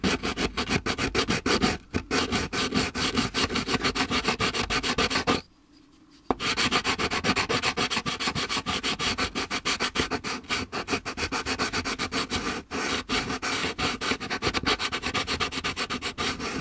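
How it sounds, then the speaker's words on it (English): A blade scrapes rough seam lines off a 1/24 scale slot car model body. The rasping strokes are close and continuous, with a brief pause partway through, and no voice. "Scrape down the seam line bits."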